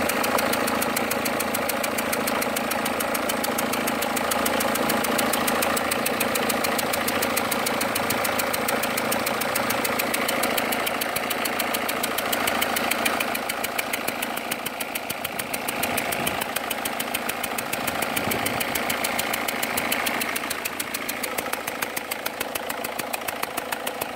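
A 2001 Peugeot 406 engine being repaired for leaking injectors idles steadily and close, with an even, fast mechanical ticking throughout and no talk.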